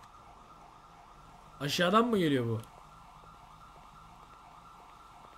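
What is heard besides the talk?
sirens starting to wail in a role-play video game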